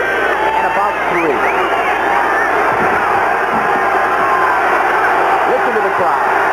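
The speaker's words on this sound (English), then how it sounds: "Listen to the crowd." A stadium crowd at a 1984 USFL American football game between the Gamblers and Panthers roars and cheers in a sustained swell, with a voice talking over it.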